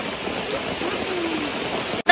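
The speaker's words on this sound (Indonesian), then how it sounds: "Oh my god, hujan deras." Heavy rain pouring steadily, a dense broadband hiss that holds evenly throughout, close and loud, then cutting off abruptly near the end before a brief burst of noise.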